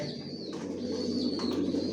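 Racing pigeons held in a loft coo softly and continuously against a dense background hum, with low rolling calls close by.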